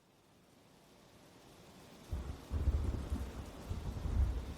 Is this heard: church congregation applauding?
no